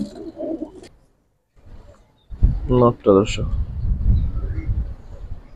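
Giribaz and high flyer pigeons in a breeder's collection give a few soft throaty coos, close by and partly under someone talking.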